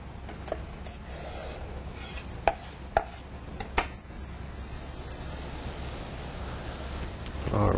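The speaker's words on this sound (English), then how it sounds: "I'm just going to cut the head open a little bit" A knife cuts open a cooked lobster head, giving a few sharp crunching cracks of shell amid steady rubbing and scraping sounds in a kitchen, close and moderately loud.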